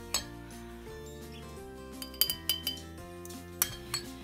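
A spoon clinks against glass quart jars as yogurt starter is added for homemade yogurt, several sharp metallic taps clustered near the end over a soft background of kitchen handling.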